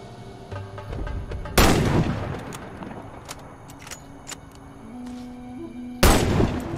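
Sniper rifle shots in the shooter game Warface, two sharp loud cracks a few seconds apart, each with a short decaying tail, between quieter clicks and handling noises.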